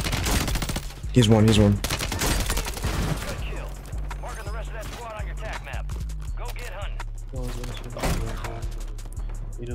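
Rapid bursts of gunfire from Call of Duty Warzone 3 gameplay, a BP50 rifle among them, crackling repeatedly under loud, excited voices talking throughout.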